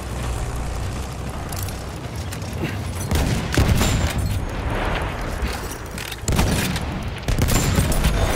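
Machine gun fire in the shooter game Battlefield, loud sustained bursts of rapid shots with vehicle rumble beneath, heavier volleys near the middle and end.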